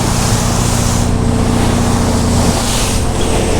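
A motorboat engine drones loudly and steadily as the boat crosses open sea, with rushing wind and splashing water layered over the constant low hum.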